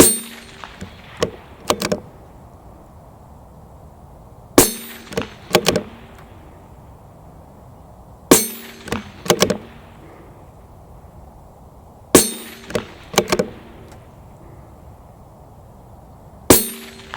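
A CZ 457 thumbhole laminate rifle in .17 HMR fires at a 150-metre range, sharp loud cracks arriving in quick clusters of two or three, each followed by brief echoing decay and quiet gaps.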